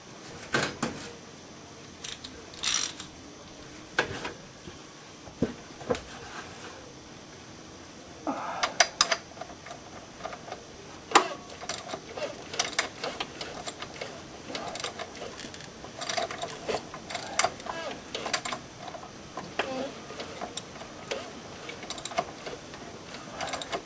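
The engine of a VW pickup is turned over by hand with a wrench from underneath, giving faint, irregular mechanical clicks and ratcheting bursts with pauses between them over a quiet background.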